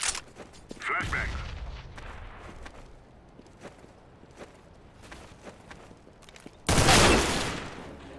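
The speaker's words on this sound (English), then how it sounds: "Grenade! Flashbang!" Flashbang grenades detonating in CS:GO, a loud low burst early on and another sustained broadband blast near the end, with footsteps and scattered shots in between.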